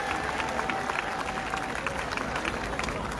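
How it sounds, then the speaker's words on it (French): Continued clapping from a large Catholic assembly, a dense wash of hands under crowd murmur and background voices, steady and moderately loud. "Encore et encore vos applaudissements,"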